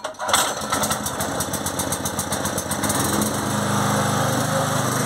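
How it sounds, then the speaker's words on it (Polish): Small portable power generator, used as backup for an off-grid solar setup, starts on the first pull and settles into a steady, loud, buzzing run, with a brief sputter before it catches. "agregacik odpala, już go w tym roku próbowałem, czy zadziała od razu, ale odpala za pierwszym razem"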